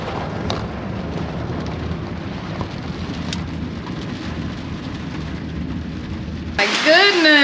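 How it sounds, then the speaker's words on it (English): Heavy storm rain pours steadily on Isla Mujeres, heard from inside a taxi as a constant hiss, before a voice speaks near the end. "It's raining cats and dogs outside."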